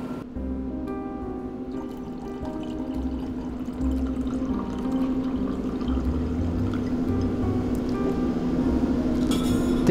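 Carbonated non-alcoholic ginger beer pours into a cocktail glass for a Moscow mule with no ice yet added, giving a continuous close fizzing, bubbling stream with faint glassy clinks and a steady hiss throughout.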